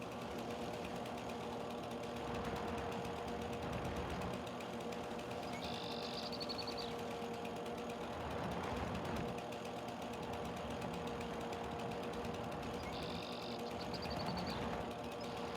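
A Husqvarna or Stihl machine runs steadily in a farming video game while clearing roads, a continuous mechanical drone with periodic whirring swells and faint high beeping chirps.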